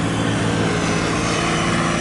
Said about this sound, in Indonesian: pesawat satu lagi di atas Sabang masih